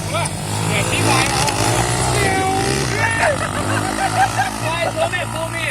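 Motorcycle engines, a Honda XR and a Tornado, rev and rise in pitch during a street race, buzzing close and loud while people talk and shout over them.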